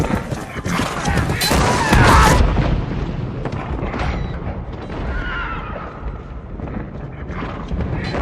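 Horses neigh and gallop fast across a field during filming of a large battle scene for Game of Thrones, with loud whinnies, rumbling hooves and deep booms forming a dense, continuous wash of noise.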